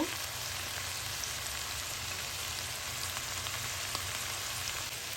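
Vegetarian chow mein noodles sizzle in a pan of already-fried vegetables, a steady, dense hiss of frying that holds evenly throughout with no voices.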